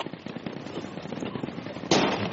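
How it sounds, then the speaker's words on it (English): Mortar shells landing in a multiplayer war game, a fast crackle of distant impacts rolling through the opening seconds before a louder, closer blast near the end. "Oh, those mortars are getting close."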